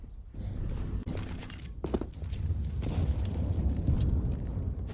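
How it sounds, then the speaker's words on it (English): Grenade blast in Counter-Strike on the Inferno map during a PGL Major Stockholm 2021 match, a deep, loud rumbling burst that swells and lingers across the whole moment, with sharp cracks and debris-like shatter early on. "That's a really nice nade from the T side onto Dexter."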